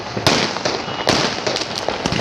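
Sky shot fireworks going off at a Khatu Shyam temple celebration, with loud crackling bursts and pops over constant crowd noise and background hubbub, several close reports in quick succession.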